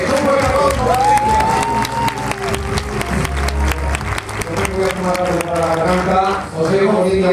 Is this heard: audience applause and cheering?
yes